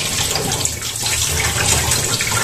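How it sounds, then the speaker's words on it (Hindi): Water pours and rushes steadily into a testing system set up to check a smartwatch's water resistance, a continuous loud gushing flow heard close up with no talking. "इसको मैं पहले अच्छे से पानी भर देता हूँ सिस्टम में"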